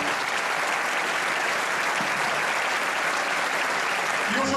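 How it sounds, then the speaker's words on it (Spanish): Loud, sustained audience applause for the Centro Aragonés de Sarrià at a gathering of folk dance groups, a thick wall of clapping from a large crowd throughout. "Este aplauso en forma de abrazos para vosotros, para el Centro Aragonés de Sarrià."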